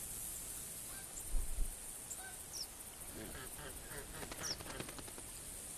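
Canada geese honk in The Hunter video game, a scattered flock calling at a distance with a few brief, faint honks spread over a quiet outdoor ambience.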